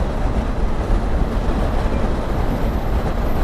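A train running at good speed on the line just before Honnavar railway station, heading toward Mumbai, gives a steady, loud, continuous rumble and rush with no voices.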